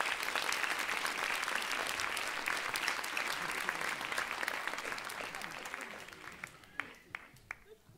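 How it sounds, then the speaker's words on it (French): A festival audience applauds in a dense, sustained wash of clapping that thins toward the end into a few scattered, separate claps. "Je pense qu'on peut les applaudir"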